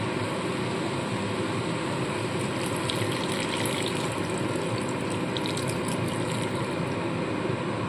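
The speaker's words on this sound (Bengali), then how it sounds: "তো এইবারে আমি পরিমাণ মতো এখানে জল দিয়ে দেবো।" Water pours steadily into a pot of potato curry with boiled potatoes, a continuous loud gushing rush that lasts throughout with no pauses or talk.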